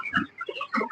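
Chickens on a poultry farm cluck in a few quick, soft bursts, close but fairly faint, with no talk over them.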